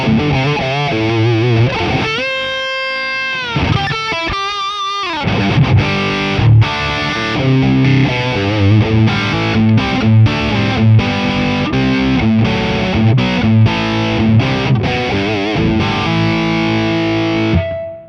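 Distorted electric guitar played through a Two Notes DynIR cabinet impulse with a Ribbon 121 mic, loud and continuous with chords and riffs, then a short passage of muted chugging.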